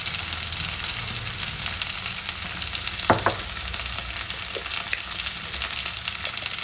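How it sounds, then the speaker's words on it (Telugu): Onion, green chilies, ginger and garlic sizzle steadily in oil in a pan, a continuous close frying hiss with a few brief stirring clicks midway and no talk. "ఉల్లిగడ్డ, పచ్చిమిరపకాయలు, అల్లం వెల్లిగడ్డ అన్నీ వేగినాయి"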